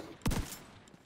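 A sawed-off shotgun fires in a video game, a single short sharp blast with a quick rattling tail, fairly loud and close, followed by a fading echo and no speech.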